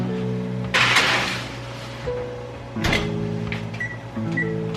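Sweet potatoes go into an oven with a sharp clatter of the door and tray, and a few electronic beeps follow as the oven is set, all over a steady background hum.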